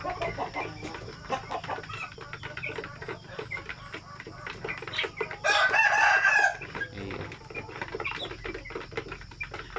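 Native chickens cluck and chatter close by through the whole stretch, with a rooster crowing loudly once in the middle, set against a steady outdoor background.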